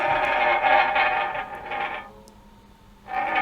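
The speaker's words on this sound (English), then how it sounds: "I decided to adapt this metal sliding sound here" A processed metal sliding sound effect produces a harsh, squeaking scrape that holds for about two seconds, drops away, then returns abruptly, loud and alone.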